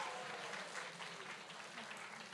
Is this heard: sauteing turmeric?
no